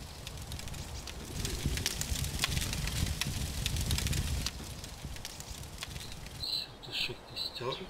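A campfire burning in DayZ, a steady crackle and hiss at moderate volume with soft popping throughout, under a quiet voice.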